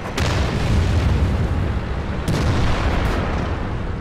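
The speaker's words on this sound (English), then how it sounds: "I can't even see where that shot came from. Goddamn SPGs." An artillery shell from a self-propelled gun bursts in World of Tanks, a loud, sustained rumbling blast that fills the whole stretch, with a second impact swelling near the middle, no voices heard.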